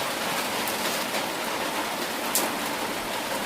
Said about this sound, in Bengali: বৃষ্টি তো পড়ছে ওদিকে ঝুমঝুম করে